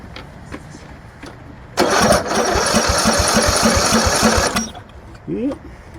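A John Deere Sabre lawn tractor that sat unused for a decade cranks and fires, its small engine running loud and steady for about three seconds before cutting out, with a voice exclaiming afterward.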